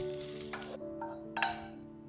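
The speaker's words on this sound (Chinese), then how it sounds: "热锅加油，锅中倒入梅干菜，炒香后放入盘中备用" Preserved mustard greens (meigancai) stir-fried in an oiled wok, a steady close sizzle with a few scraping stirs of the spatula, no talking.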